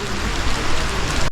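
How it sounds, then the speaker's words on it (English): Heavy pouring rain makes a dense, steady, close hiss of drops beating on surfaces, loud and unbroken with no voices over it. "it's pouring rain"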